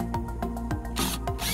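A power drill bores through a metal soffit on a house exterior while a flag bracket is installed, giving a close, steady grinding rasp broken by short pauses and growing harsher near the end.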